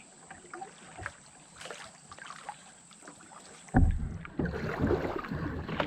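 A kayak spins around on the Gunpowder River, with soft paddle splashes and water sloshing against the hull, growing louder and closer as the boat turns, with some wind buffeting the microphone.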